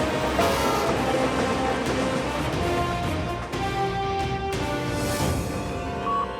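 A train running along the track produces a steady, dense rumble with a faint droning hum, loud and continuous throughout, with no voices.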